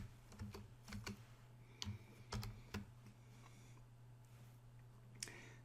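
Keys clatter on a computer keyboard in short irregular bursts of crisp clicks, quiet and close against a low steady hum, with a brief final flurry of taps.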